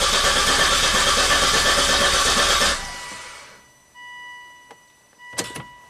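A Volvo XC90 with a long-crank, stalling no-start fault cranks loudly for nearly three seconds without catching, then cuts off, leaving faint clicks and a brief rattle in near silence.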